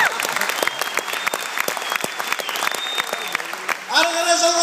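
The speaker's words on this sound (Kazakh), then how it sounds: "Сіздер шапалақ ұрсын деп 5 секунд уақыт береміз" Dense crowd applause fills a KVN comedy contest hall in Taraz, a steady rush of clapping for several seconds before amplified speech takes over at the end.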